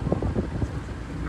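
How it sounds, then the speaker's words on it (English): Wind buffets the microphone outdoors in Arizona, a steady low rumbling roar under a person talking. "It's windy out here right now."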